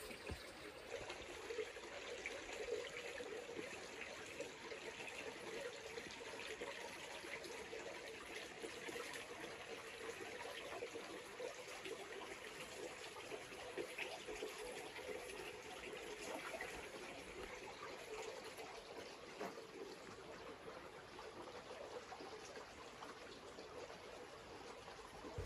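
Water trickles and flows steadily through an undercut creek, a continuous even wash that stays at a constant level with no voices.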